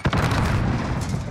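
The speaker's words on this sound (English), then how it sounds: "Throwing frag grenade" A frag grenade going off in Call of Duty Warzone, one heavy booming blast with a rumbling tail lasting about a second, loud and close.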